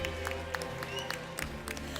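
A festive crowd in a medieval-style hall raises a cheer for a lord and his bird of prey, applause and scattered shouts blending into a steady, fairly close din with sharp clap accents throughout.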